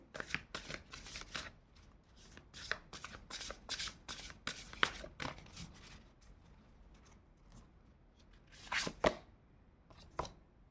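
Tarot cards are shuffled and drawn by hand: a quick run of crisp riffling flutters and slaps, then a couple of sharper snaps as cards are pulled, close and clear with no talk.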